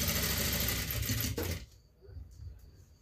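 A sewing machine stitches piping onto a blouse, a dense, steady mechanical whirr running loud for about a second and a half before it cuts off, leaving quieter rustling and handling of the fabric.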